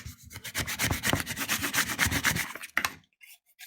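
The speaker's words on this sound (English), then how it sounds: "And now I'm going to burnish it again." Layered adhesive craft vinyl being burnished, a steady rapid back-and-forth rubbing scrape running for nearly three seconds, close and fairly loud, ending abruptly with one last stroke.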